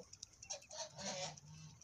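Three roosters give a few short, faint clucks close by in a quiet farmyard.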